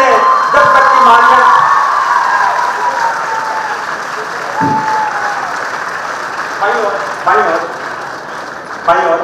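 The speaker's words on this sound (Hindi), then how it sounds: "ताली की गड़गड़ाहट जब तक आप रुकने न दें" Audience at a Rajasthan political rally with the Chief Minister applauds steadily throughout, a dense continuous clatter of clapping with a few cheers, while an amplified voice speaks over it.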